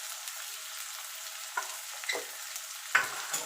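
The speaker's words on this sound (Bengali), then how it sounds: "এবার পেঁয়াজটাকে একটু আমি লাল লাল করে ভেজে নেব।" Onions fry in a pan for a chicken kosha dish. A soft, steady sizzle sits underneath, broken by a few brief stirring scrapes.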